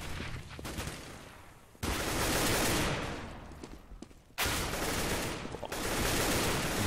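Competitive Counter-Strike on de_nuke, with bursts of rifle and pump shotgun fire cracking in loud clusters between quieter stretches of footsteps and movement.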